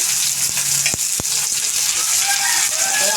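Chopped onion frying in a pan with dried red chillies, a steady close sizzle with a couple of sharp stirring knocks early on, no talking.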